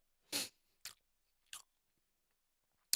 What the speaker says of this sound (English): Oh no, it's chewing gum.